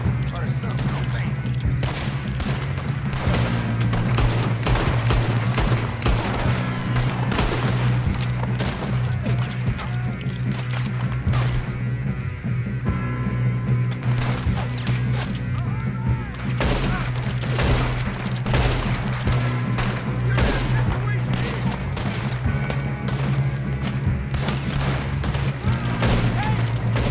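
Near-constant bursts of gunfire in an online shooter game, rapid volleys and booms layered over a steady low rumble, with excited voices shouting over the shooting throughout.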